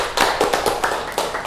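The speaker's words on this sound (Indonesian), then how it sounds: "Tepuk tangan untuk kelompok 1." A small class claps for a student group in a microteaching session: scattered, fairly close hand claps in uneven bursts about eight times, with no talking over them.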